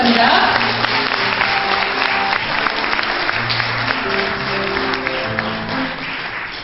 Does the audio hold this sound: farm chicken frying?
no